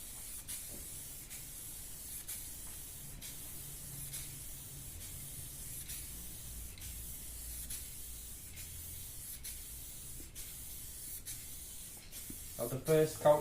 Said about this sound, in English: this is all sprayed full colours in the past using a tin